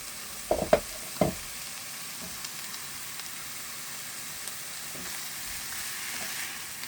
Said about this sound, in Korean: 갑오징어를 먼저 넣어가지고 이거를 버터를 좀 입힐게요